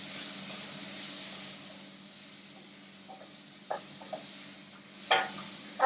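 Food frying in coconut oil in a pan, with a faint, steady sizzle and a few soft knocks of stirring near the end, all quiet and close.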